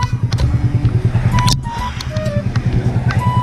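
Open-pipe exhaust on a 125 cc Suzuki Raider J FI during a street race, a loud close pulsing engine idle and rev with a rapid throbbing rhythm throughout.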